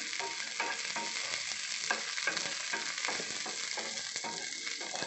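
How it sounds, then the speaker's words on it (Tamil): Garlic, onion, green chili and tamarind frying together in a pan, a loud continuous sizzle broken by regular stirring scrapes, close and alone without talk. "பூண்டு வெங்காயம் வதங்கும் போதே பச்சை மிளகாய் புளி எல்லாத்தையும் சேர்த்து நல்லா வதக்கிக்கோங்க."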